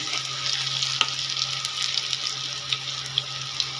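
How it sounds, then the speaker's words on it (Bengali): Constant hiss of lentil and amaranth-leaf fritters frying in oil close by, with a faint low hum and a few light clicks, no talking. "তাহলে আমি বড়াগুলো এইভাবে ভেজে নেব"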